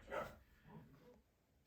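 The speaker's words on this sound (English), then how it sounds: "The dog started barking." A dog gives one short, sharp bark at a moderate distance, followed by a few softer, lower sounds before a quiet tail, with no talking.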